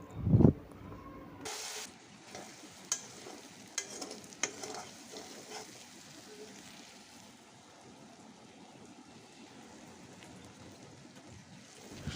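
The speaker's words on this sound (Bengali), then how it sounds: "শুটকিটা কিছুক্ষণ ভাজার পরে যখন সুন্দর একটা গন্ধ বের হবে তখন আমি উপর থেকে গুঁড়া মশলাপাতি দিয়ে দিব" Dried loitta shutki fish frying in a pan with bean seeds, a steady close sizzle broken by scraping stir strokes and a few sharper knocks of the spoon, with no talking.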